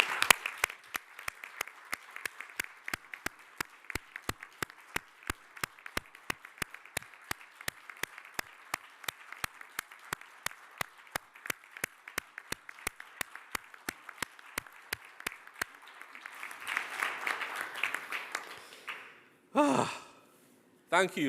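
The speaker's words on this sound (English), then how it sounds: "those of us who are sitting will give them the biggest round of applause ever" At a CMO meeting opening ceremony, an audience claps for about fifteen seconds, a dense rhythmic applause that fades out. Brief talk and noise follow at the end.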